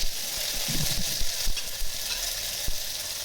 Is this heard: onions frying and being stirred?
yes